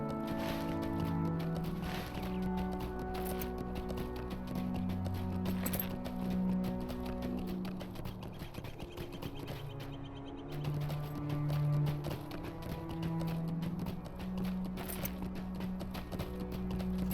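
Steady rhythmic hoofbeats of a horse galloping in the video game Lord of the Rings Online, continuous and moderately quiet, set against a layer of ambient music.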